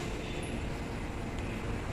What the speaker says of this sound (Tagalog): Bago itong line ng tren na to.